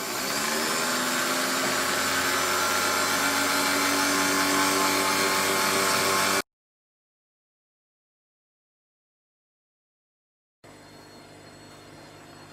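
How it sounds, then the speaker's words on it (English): A stand mixer fitted with a dough hook kneads sourdough bread dough, its motor whirring loud and steady nearby, then cutting to silence before a quieter stretch of the same motor hum resumes. "I've got the dough hook on the mixer, so we're just going to get that mixing now for 10 minutes."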